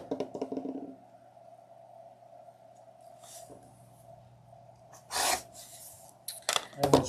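Fabric being trimmed with a rotary cutter against a Strippy Stars ruler, giving a few short rasping scrapes near the start and louder cuts toward the end over a steady low hum.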